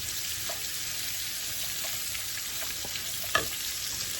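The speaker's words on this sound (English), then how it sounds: "We just want to get these started sauteing." Chopped onions sauteing in a pan make a continuous bright sizzle, with a few soft pops and one sharper clack from a utensil near the end, close and without voices.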